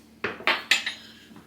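A metal cooking pot is handled on a kitchen stove, giving three sharp clanks of metal on metal in quick succession and a fainter knock after them, each ringing briefly and fading.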